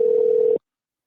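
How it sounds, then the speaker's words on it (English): Ringback tone on an outgoing telephone call, a single steady tone lasting about half a second before cutting off to silence. "You can hear the ringing, right, Ren?"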